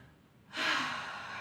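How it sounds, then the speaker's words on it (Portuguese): One slow, deep, conscious breath, a soft airy intake that swells suddenly and holds close to the mic. "fazer uma pausa para uma respiração consciente"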